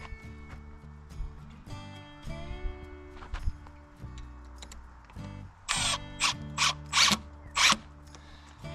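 Hand driver turning tapered Robertson screws into a wooden block through oversized holes, giving faint ratcheting clicks and creaks, then a run of sharp, loud rhythmic clacks near the end.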